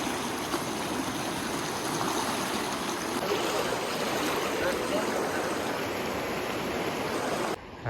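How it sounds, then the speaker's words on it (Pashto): Mountain stream water rushing steadily in Kunar Valley, Afghanistan, a close, loud, continuous flow that cuts off abruptly near the end. "اوس په اوبه ګډېږم"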